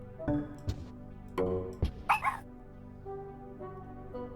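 A dog whimpering sound effect: several short, high, plaintive whines and yips spaced unevenly, with a couple of sharper cries in the middle, standing alone and fairly close.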